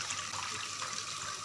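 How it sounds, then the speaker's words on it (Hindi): A soft, continuous hiss of water pouring into flour, steady and close for a brief moment with no voices. "ऐसी इहदे अंदर पानी शामिल करांगे जी।"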